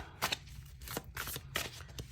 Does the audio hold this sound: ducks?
no